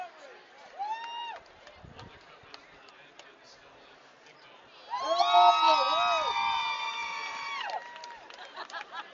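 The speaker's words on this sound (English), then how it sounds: "Big cheering section for Nolan Migdal right in front of us here." A crowd at a high school varsity football game between Fort Collins and Rocky Mountain cheers and shouts, rising sharply into a loud sustained roar halfway through, with a commentator's voice audible over the earlier quieter stretch.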